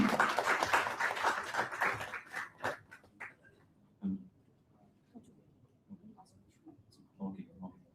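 Audience applause at the React Kolkata tech meetup, a dense burst of clapping that fades out over about three seconds, followed by sparse quiet sounds and some speech.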